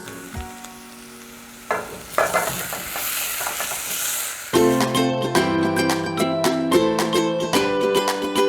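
Diced mirepoix vegetables with smoked paprika sizzle and crackle in a hot pan, stirred steadily, the frying growing louder and denser partway through as the pan heats up, with no talking.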